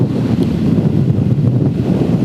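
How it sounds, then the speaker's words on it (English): Strong wind buffets the microphone on a 2019 BMW R1250R Sport motorcycle riding a country road: a loud, continuous, gusty rumble with no talk. "as you can hear, my goodness, it's pretty windy out here today"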